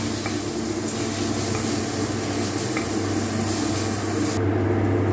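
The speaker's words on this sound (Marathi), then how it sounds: "आता छान असं भाजून घेऊया वाटणला" Spice paste with mustard seeds, cumin, asafoetida and curry leaves frying in a pan gives a steady, close, hissing sizzle throughout, with a few faint clinks and no talk.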